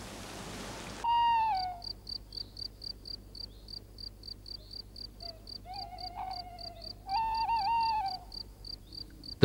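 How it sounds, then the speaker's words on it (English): Tawny owl hoots ring out in a quiet night setting in a wooded natural area near Alicante, two wavering calls separated by a pause, over a steady, rhythmic chirping of crickets. "The tawny owl is a night hunter, a bird of prey."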